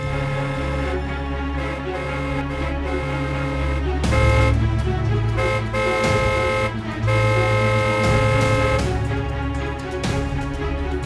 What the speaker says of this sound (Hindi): कौन है ये जो तब से पागलों की तरह हॉर्न बजाया जा रहा है?